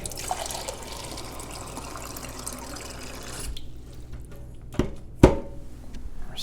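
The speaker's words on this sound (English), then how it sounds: "I'm going to throw this half melted stock in here" Half-melted frozen stock with chunks of stock ice, along with water, pours into a pot of beans, making a steady splashing, trickling run that stops partway. A few sharp knocks follow near the end.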